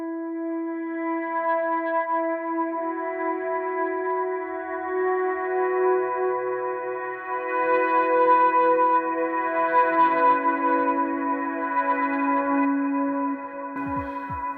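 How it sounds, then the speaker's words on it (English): An electric guitar played through an H9 pedal set for a swell tone fades in sustained reverb-washed chords that bloom and overlap, with no picked attacks and a gentle swelling level throughout, with no one talking. "So that's kind of like a swell sound that I'll use sometimes"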